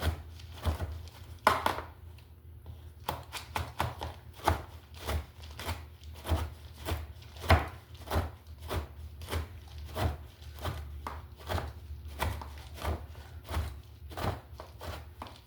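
Nuts being finely chopped with a knife on a cutting board for banana nut bread, a steady run of sharp, close knocks at a brisk, slightly uneven rhythm, with no talking.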